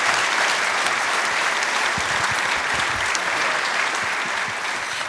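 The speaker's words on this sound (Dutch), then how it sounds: "dat verdient een applaus" Sustained applause from an audience at the Eén van Veldhoven 2018 award presentation, a thick continuous wash of clapping that holds steady for five seconds and eases slightly at the end.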